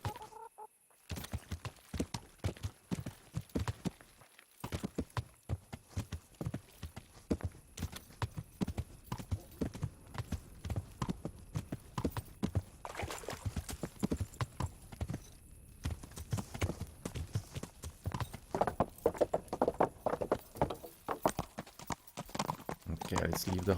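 Horse hooves clip-clop at a steady walking rhythm in the medieval game Kingdom Come: Deliverance, close and fairly faint, with someone talking over much of it and a brief pause in the steps.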